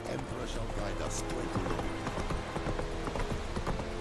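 Horse hooves clip-clop at a steady trot in The Witcher 3: Wild Hunt, a continuous rhythmic beat mixed in with game music and ambience, with someone talking over it.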